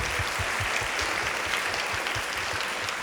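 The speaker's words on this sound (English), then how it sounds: "let's give them a round of applause" Steady applause from a teacher-of-the-year ceremony audience, dense clapping filling the room at an even level throughout with no talk over it.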